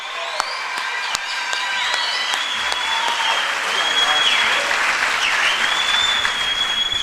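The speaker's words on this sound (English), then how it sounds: "Can we just give them a round of applause one more time?" Graduation audience applauding a class of graduating seniors with sustained, full clapping that swells in the middle, with cheering voices mixed in.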